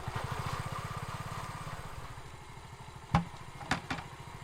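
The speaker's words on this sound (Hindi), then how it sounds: "बाइक ले आए?" A motorcycle engine idles nearby with a rapid, even low chugging pulse that fades slightly over time, followed by a few sharp clanks or knocks near the end.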